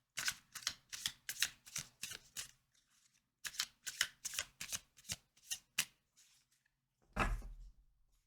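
Tarot cards are shuffled in rapid riffling bursts, close and crisp, in two long runs split by a short pause, then a single soft thump near the end.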